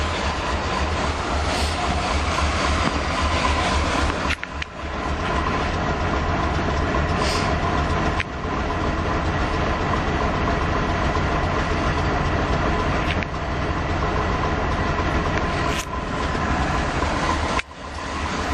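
A 1977 Ford E100 van engine idles after a winter cold start on premium gas, giving a loud, steady rumble with an even low throb. It is nearly constant throughout, broken by a few brief dips and knocks.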